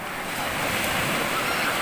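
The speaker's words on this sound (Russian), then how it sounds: "От души море не такое уж какое-то спокойное." Sea waves breaking on a beach in Turkey, a loud continuous surf wash mixed with wind buffeting the microphone, steady throughout and without speech.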